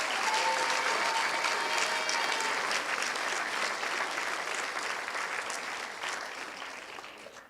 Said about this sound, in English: Let's give our parents here and at home a round of applause.